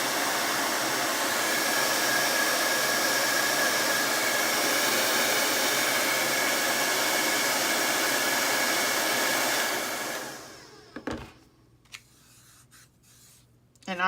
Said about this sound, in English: And I always use a cold dryer.